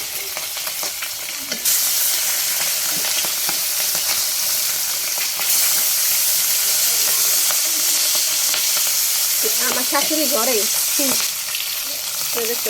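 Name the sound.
fish frying in hot oil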